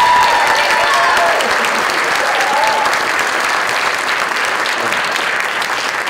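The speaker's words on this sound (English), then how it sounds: "So how about another round of applause?" Sustained, loud applause from a concert audience following a high school pops concert choir performance, dense and steady throughout and tapering only slightly toward the end.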